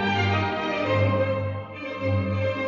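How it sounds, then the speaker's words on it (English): A large orchestra of 163 players performing Mozart, with rich sustained harmonic chords swelling and fading at moderate loudness and no voices. "This is the sound of 326 hands playing Mozart."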